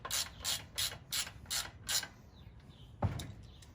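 A ratchet wrench clicks in six quick, evenly spaced bursts while torque converter bolts are tightened by hand, followed by a single heavier clunk, faint and close.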